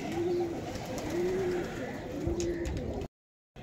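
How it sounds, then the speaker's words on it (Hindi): Pigeons coo in steady repeated phrases, about three low calls, while feeding on grain in a loft. A constant rustle runs beneath them and ends in a brief silence near the close. "मैंने उड़ार वाले कबूतरों को दाना डाल दिया और माशाल्लाह से ये दाना खाने में मसरूफ़ हैं"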